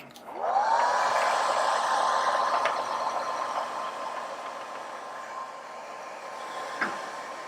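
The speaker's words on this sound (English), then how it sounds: "Alright, and time for the hair dryer." A hair dryer whirs to life and blows steadily with a high whine, loud and close, continuing without pause.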